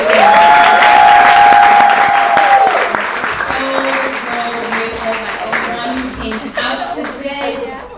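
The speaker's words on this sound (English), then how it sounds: "Let's give the panelists a round of applause." Loud, sustained applause and some cheering from an audience for the panelists at the close of a panel discussion, with a voice talking over the clapping and a tone briefly sounding at the start.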